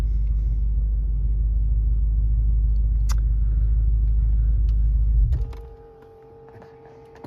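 A car engine idles with a steady low rumble for about five seconds, then cuts off abruptly, leaving a quiet cabin with faint electronic hum and a few small clicks.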